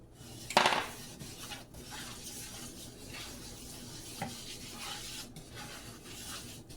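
A roux of flour and fat with salt and pepper stirred and browning in a pan gives a quiet, continuous sizzle with scraping and stirring, plus one sharp utensil clink against the pan near the start.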